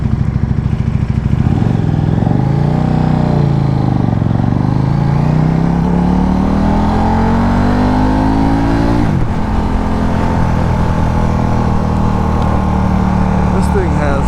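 Powerful motorcycle with strong low-end torque, revving hard close by: engine pitch climbs, drops, then rises in long accelerating sweeps, with a sharp gear change partway through and a loud roar throughout.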